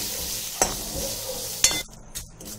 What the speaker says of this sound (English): Fry the curry leaves in a medium to low flame